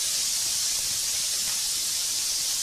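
Turkey pieces sear in a smoking hot pan, producing a soft, continuous hiss of steady sizzling with no voices over it.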